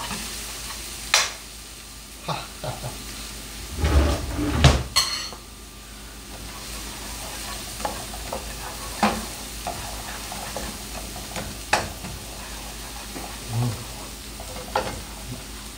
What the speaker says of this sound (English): Barely stir fry it in the oil. I think the oil is too hot.